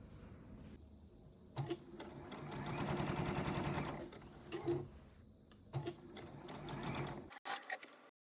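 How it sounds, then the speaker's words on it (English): A sewing machine stitches a side seam on an upcycled denim jeans vest in quick rapid bursts, the motor whirring in several runs separated by short pauses, close and fairly quiet. "I could then pull through the first side seam and sew it on the inside"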